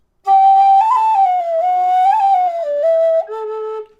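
A D tin whistle plays a short Christmas carol phrase, a clear, bright, sustained melody with smooth pitch steps, loud and close, alone without talk.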